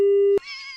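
A steady tone cuts off at a disconnected prank phone call, followed by a short beeping sequence and a burst of noise, close and clear with no talking.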